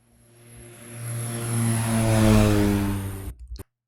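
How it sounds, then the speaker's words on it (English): A loud propeller airplane passes overhead as a sound effect, its droning engine swelling from faint to a roaring peak, then cutting off abruptly. "We also have to find a loud prop plane sound effect."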